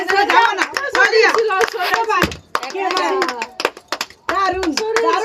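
Several people clap in quick bursts during a family game challenge, sharp and close, mixed with lively talking between the rounds.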